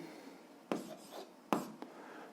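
Chalk or a pen writes an algebra expression, giving quiet close scratching strokes with a few sharper taps as marks start, spread over a couple of seconds.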